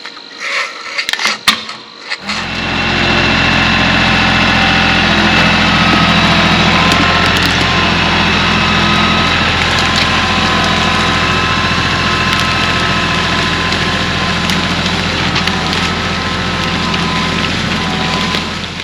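A tractor engine runs loud and close on a wooded hillside while pulling out a log, holding a steady laboring drone after a few sharp knocks at the start.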